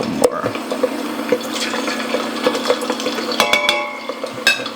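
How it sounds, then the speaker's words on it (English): Pieces of pork belly deep-fry in hot oil for chicharron, giving a busy, close bubbling sizzle with scattered sharp crackles and pops as the water cooks off. "You will hear lots of bubbling and lots of noises because that's the water being cooked off"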